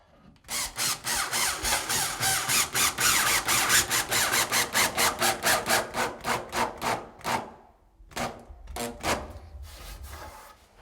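A power drill drives a 3-inch screw through a kitchen cabinet back into a wall stud, giving a close, loud, rapidly pulsing grind for about seven seconds, then a pause and two shorter bursts as the screw seats.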